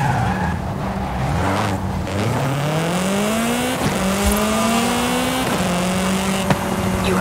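A Honda Civic Type-R in Forza Horizon 5 revs and accelerates with rising engine pitch through gear changes while tires squeal and skid, loud and steady, with no talking.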